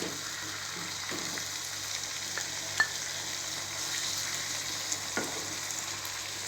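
Sliced mushrooms sautéing in a pan give a steady, faint sizzle with a few scattered light clicks and scrapes, and no one speaks.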